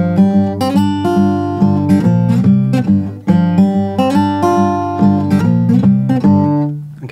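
A hill country blues guitar riff, played at full speed: loud, rhythmic plucked notes and bass strokes repeating in a driving, steady pattern with no talking.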